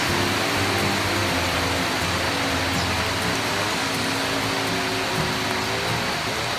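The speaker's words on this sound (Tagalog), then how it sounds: "basa kami ng ulan" Heavy rain falling on a motorcycle ride along the Cavite Loop via Barangay Wawa, a loud, unbroken hiss filling the scene, with a low engine or road rumble beneath and no talk.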